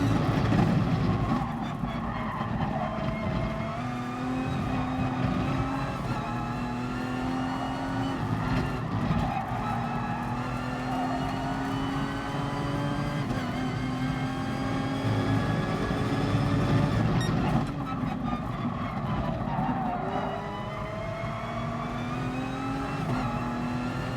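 A hybrid race car in GT Sport, its engine droning steadily at high revs with rising pitch sweeps through gear changes, loud and continuous for over twenty seconds, with a brief lift around the middle and near the end.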